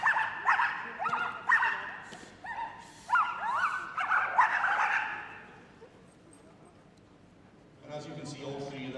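Several police dogs bark and yip excitedly in quick bursts for about five seconds during a West Midlands and South Wales Police display at Crufts 2012, then quiet, followed by a softer rustling, clattering sound near the end.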